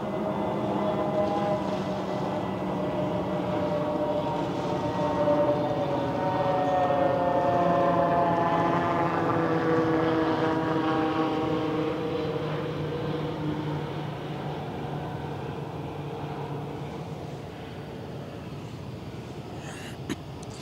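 A loud Airbus A321neo jet passes overhead in a drawn-out droning roar with shifting whining tones that slowly glide in pitch, steady and unbroken for about twenty seconds, with no voices.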